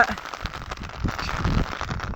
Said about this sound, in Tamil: இங்கே பாருங்க என்ன இருட்டு, செம மழை.